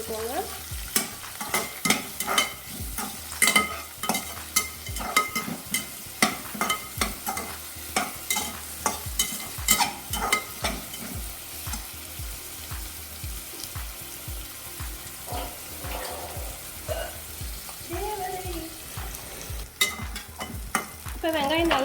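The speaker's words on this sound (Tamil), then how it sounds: "ஆட் பண்ணி நல்லா வதக்கிக்கலாம். வெங்காயம் நல்லா கலர் சேஞ்ச் ஆகுற வரைக்கும் வதக்கி விட்டுக்கோங்க." Onions and mint sautéing in a pan, with a spoon repeatedly stirring and scraping through steady sizzling over about twenty seconds and a brief trickle of water near the end, no voices.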